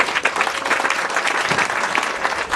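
Steady audience applause at an outdoor community ceremony in Côte d'Ivoire, dense and continuous with no voices over it.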